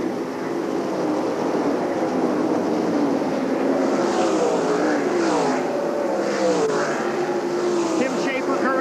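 World of Outlaws sprint cars racing at Eldora Speedway in 1997, a continuous loud roar of engines with rising and falling pitch as cars sweep past, while an announcer talks over the din.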